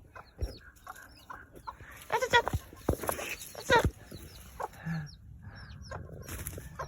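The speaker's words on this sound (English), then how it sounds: "Funny little birds." Chickens cluck and murmur nearby in scattered bursts, with occasional louder squawks and soft rustling in a quiet outdoor setting.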